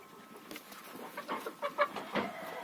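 Hens cluck softly in short, scattered bursts nearby as they eat, a low, busy chatter over quiet background noise.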